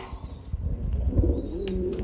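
A pair of pigeons with two chicks coo softly nearby, low throaty calls rolling over one another with a faint chirp above.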